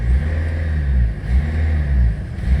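A stationary Mercedes-Benz CLA with a DCT gearbox idles and is revved, its steady mid-pitched engine hum swelling and easing in a few gentle surges, heard close and alone with no talk.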